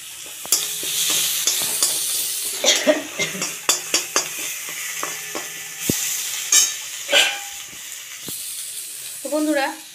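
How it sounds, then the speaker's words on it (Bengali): Food being stirred in a sizzling pan after a pinch of sugar goes in, with repeated scraping and clinking of the utensil against the pan over a steady frying hiss, and a voice briefly at the end. "এটা একটু নেড়ে চেড়ে নেব।"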